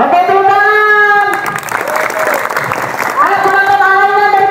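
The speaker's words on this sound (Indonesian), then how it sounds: "Oke, tepuk tangan." Applause from a crowd at a gathering of four martial-arts schools, a steady patter of clapping in the middle stretch, with music and voices around it before and after.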